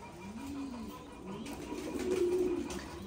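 Titan Thai meat pigeons cooing close by, several low rolling coos rising and falling over a soft background hiss, with a faint flutter of movement.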